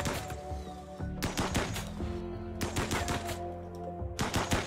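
Colonists firing guns in the game Rimworld: several clustered bursts of rapid shots at steady loudness over a constant droning game soundtrack, with quieter gaps between volleys.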